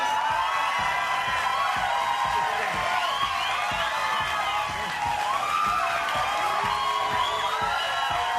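Studio audience at a live late-night talk show cheering and applauding, a steady crowd roar with whoops and shouts filling the whole stretch while voices talk over it.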